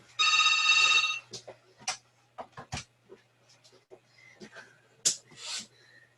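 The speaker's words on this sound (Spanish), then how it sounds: "está sonando el teléfono y no pensé que iba a sonar, lo voy a apagar." A telephone rings once in a short burst of electronic trilling at the start of a live talk, followed by scattered speech and handling noises.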